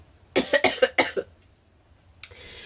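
A burst of five rapid, harsh coughs close to the microphone, followed by a pause and a short rustle.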